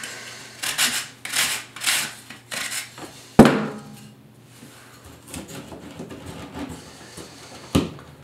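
A drywall file rasps against a drywall edge in a series of quick, scraping strokes, followed by a sharp knock and a few quieter scrapes, close and with no talking.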